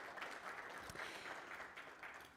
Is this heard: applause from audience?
yes